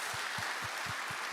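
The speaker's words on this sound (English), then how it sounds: "I just want to give another round of applause for Tessa" A charity-event audience applauds, the clapping filling the short stretch as a steady, moderately distant wash of hands under faint rhythmic thumps.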